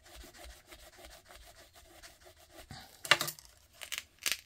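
A paper-bag card is rubbed down by hand, a close, soft, rhythmic scraping that repeats steadily and then ends in a few louder rustles and taps, with no talking.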